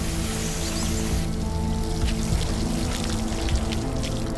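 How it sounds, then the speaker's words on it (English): Water from a fire hose fed by the water main spraying onto an aircraft, a continuous hissing, splashing pour, fairly loud and steady throughout. "the plane had been rinsed with a fire hose plugged into the water main"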